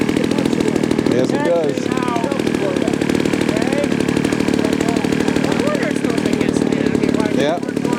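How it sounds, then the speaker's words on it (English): A real gas engine on a large radio control model biplane or B-25 Mitchell runs at a steady, loud buzzing idle close by at a flying event, continuous throughout, while people talk over it. "Yeah, that's a real gas engine right there."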